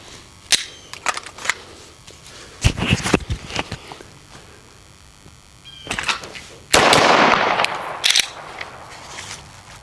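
Sharp pistol gunshots from a Ruger RXM during reload drills, several spaced reports in uneven bursts with gaps for reloading, loud and close, one followed by a longer noisy burst.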